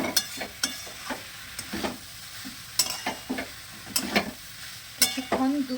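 Soybean chunks and bottle gourd stirred with spices in a pan, repeated scraping strokes of a spatula in an irregular rhythm over a soft sizzle, close and fairly loud.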